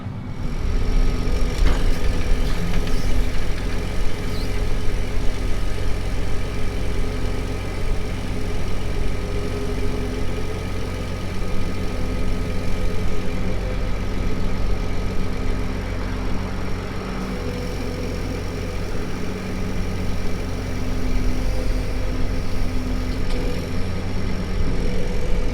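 A self-propelled crop sprayer's engine idles steadily and loudly close by, a constant low rumble with a droning hum that holds unchanged the whole time while the spray boom unfolds.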